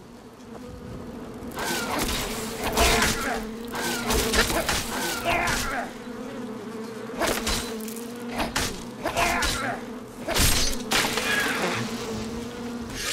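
Insects buzz steadily in Skyrim, a continuous droning hum with repeated louder swells and thuds layered over it.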